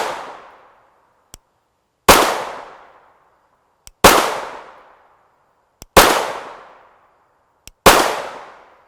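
A Glock 19 Gen 4 pistol with a red-dot optic fires 9mm rounds: four loud, sharp shots spaced about two seconds apart, each with a ringing decay and preceded by a faint click.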